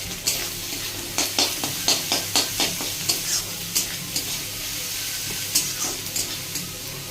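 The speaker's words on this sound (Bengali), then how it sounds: "এবার দিয়ে দিলাম কুচনো আদা রসুন পেস্ট।" Ginger-garlic paste sizzles in a hot pan with chopped tomato for egg tadka, a steady frying hiss broken by a quick series of sharp stirring scrapes and clicks, close and alone.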